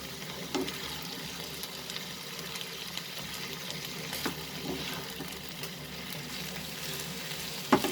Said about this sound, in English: we'll saute this for 2 to 3 minutes